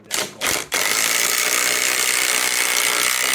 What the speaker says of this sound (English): going around with my new impact wrench and just firing one of these coach screws all the way through